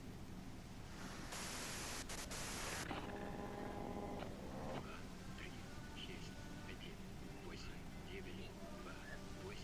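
Static-like white noise in the video game Disco Elysium: a loud, steady hiss swells for about a second and a half, then fades back into a murky, faintly voiced background.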